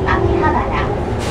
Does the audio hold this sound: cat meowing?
no